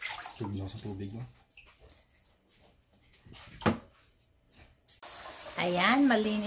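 Milkfish (bangus) rinsed in water before grilling, soft running and sloshing with a brief louder splash, then a steady hiss of flowing water while a person talks.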